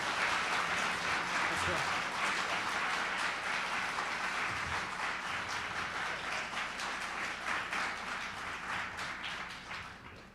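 A debate audience applauds as the candidates walk onto the stage for a Pennsylvania congressional debate. Sustained, dense clapping fills the whole stretch at steady loudness and tapers slightly near the end.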